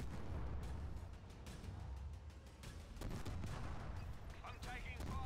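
Gunfire from enemy ground troops in the Halo Wars 2 strategy game, repeated sharp shot bursts and explosions layered over dense battle noise, with in-game voices speaking.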